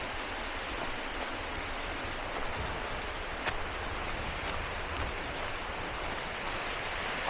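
A waterfall in South Wales produces a steady, broad rushing roar, heard from a short distance away without any breaks.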